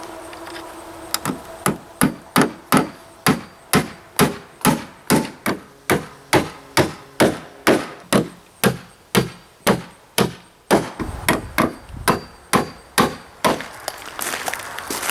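A hammer drives 1.5 inch joist hanger nails into deck wood with a long series of sharp, evenly spaced, ringing blows, loud and close, the rhythm speeding up toward the end.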